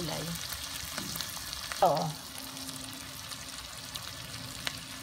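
Shrimp paste (bagoong) sautéing with tomatoes in a backyard pan, a soft steady sizzle with a brief louder scrape of stirring, and a short spoken word.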